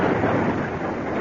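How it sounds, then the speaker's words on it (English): A thunder sound effect in a radio drama rumbles as a loud, dense, continuous roll, briefly and close with no voices. "Thunder. Thunder."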